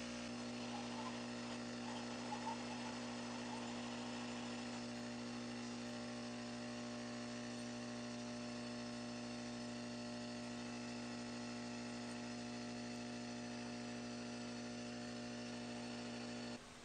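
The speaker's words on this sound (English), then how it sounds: "I've got my heat gun set to about 330 degrees Celsius, and I'm just blowing a lot of hot air on it" A heat gun set to about 330 °C blows hot air onto a clogged 3D printer nozzle, giving a loud, steady motorized whir with a constant humming tone that runs unbroken, with no voices.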